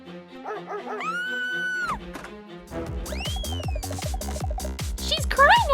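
Puppies yip, whine and bark in quick high-pitched bursts, close and loud, with sirenlike rising cries mixed among the excited chatter of small dogs.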